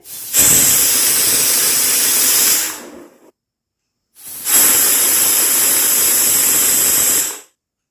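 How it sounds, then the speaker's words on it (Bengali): A pressure cooker cooking peas lets out two long, loud steam whistles, each a strong hissing blast lasting about three seconds, separated by a brief silence. "তারপর ঢাকনা লাগিয়ে মিডিয়াম ফ্লেমে মোটামুটি দুটো সিটি দিয়ে নেব"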